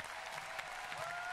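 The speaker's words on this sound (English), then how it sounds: "you're clapping for him again" Audience applause at the PlayStation Experience 2017 keynote, a dense steady clatter of many hands filling the hall, with a faint tone rising underneath toward the end.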